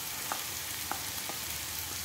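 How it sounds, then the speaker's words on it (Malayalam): Onions sautéing in a pan for a vegetable curry, a quiet steady frying hiss with occasional light taps of stirring, no talking. "അപ്പോൾ നമുക്കിത് സവാളയൊന്ന് വഴറ്റി"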